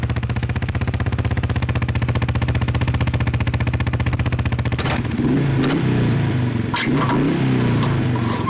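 A faulty motorbike engine runs with a rapid, rough pulsing chug for nearly five seconds, then cuts off abruptly, leaving scattered knocks and clatter.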